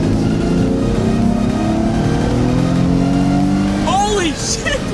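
A car accelerates hard, its engine roaring loud and close with rising harmonics, while people talk and exclaim over it near the end.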